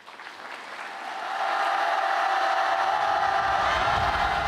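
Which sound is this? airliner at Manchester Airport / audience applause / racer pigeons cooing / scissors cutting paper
audience applause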